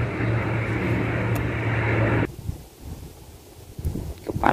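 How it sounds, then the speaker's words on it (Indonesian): A loud, steady roar of an airplane passing overhead in Taiwan fills the first half, then cuts to quieter outdoor noise with faint rustling. "Ada pesawat lewat, teman-teman."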